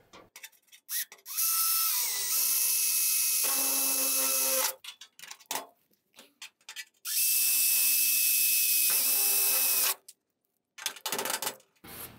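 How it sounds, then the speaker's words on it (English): A power drill bores holes through the metal firewall of a 1960-66 GMC/C10 truck to take Clecos, with two long whining bursts, each a few seconds, close and loud, separated by clicks, handling noises and brief quiet. "Then I'm gonna drill another, at least one hole down here, maybe two for Clecos."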